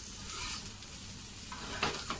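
Taro root slices frying in a pan give a close, steady sizzle with light crackling, plus a couple of brief scraping stirs near the end.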